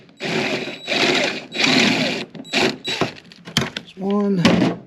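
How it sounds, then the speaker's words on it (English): T40 Torx bolts being backed out of a car seat mount with a power driver: a few short bursts of whirring and ratcheting, close and fairly loud, ending in a brief rising motor whine. "I'm going to take out the 4 Torx bolts, which are in the front and the back"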